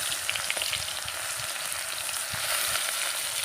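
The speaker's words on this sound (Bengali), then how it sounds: "পেঁয়াজ কুচিটাকে লালচে করে ভেজে নেব।" Chopped onions frying in hot oil with a little sugar for a village-style mirka fish curry, a steady, close, bright sizzle that continues without pause, with faint stirring underneath and no talking.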